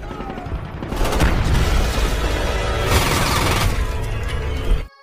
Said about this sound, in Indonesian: tak lama ada suara tembakan